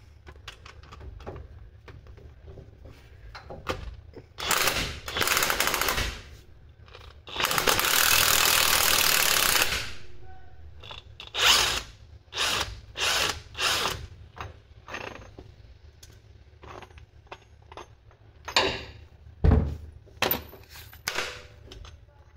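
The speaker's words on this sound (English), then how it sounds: "We're just going to give it a go with the impact gun." An impact gun hammers at the pinion flange of a Nissan Xterra, firing in several short rattling bursts and one longer burst amid clanks and tool handling in a garage, with no talk.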